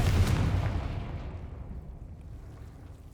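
A Confringo fire spell explodes in Hogwarts Legacy, a single loud booming blast that opens with a sharp crack and then rolls away in a long, fading rumble.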